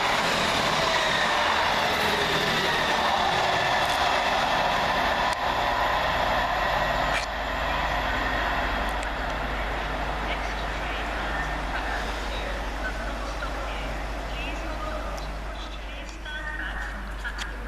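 Class 158 units 158-837 and 158-828 pass through Lea Hall station with a loud, continuous diesel rumble and rushing noise that gradually eases, while a voice talks over it.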